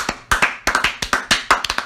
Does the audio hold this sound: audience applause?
yes